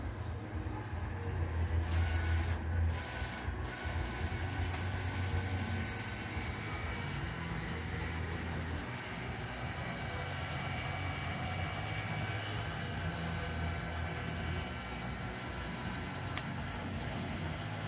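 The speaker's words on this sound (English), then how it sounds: "let's watch it retract" Prototype 80-inch cascading slide mast for a PTZ camera mount on robotic systems retracting with nylon cables, giving a steady mechanical whir and rumble with a few brief louder clacks early on, running continuously with no talk.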